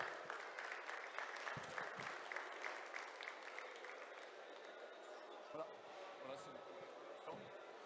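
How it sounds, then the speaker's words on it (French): Spectators at a livestock show ring applaud two cattle breeders, with moderate scattered clapping and occasional thumps, heard faintly alongside speech over a public address. "Et vous pouvez applaudir ces deux éleveurs et ces deux élevages."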